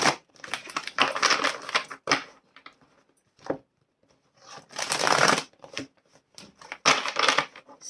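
A deck of Dreams of Gaia tarot cards is shuffled up close in several bursts of brisk riffling and flapping, with short pauses and light taps between them and no voices.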